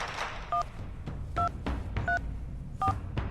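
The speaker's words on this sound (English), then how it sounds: "Who are you dialing?" A telephone being dialed in a video game: four separate keypad tones beep at an even pace over a low background hum.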